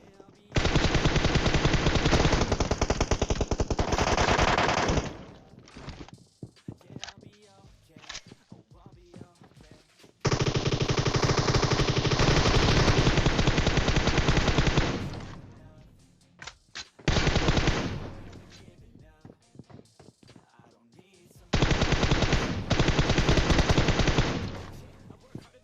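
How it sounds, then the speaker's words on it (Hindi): M4, DP and MK guns in the PUBG video game fire in long dense automatic bursts of several seconds each, separated by short gaps with scattered single shots, loud and close. "M4 यही चला रहे हैं, DP यही पटका रहे हैं, उसके ऊपर से एक बंदा MK चला रहा"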